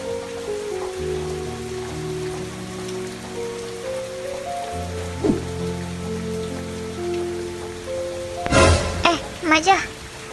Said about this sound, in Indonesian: Lagi pengen natapi hujan.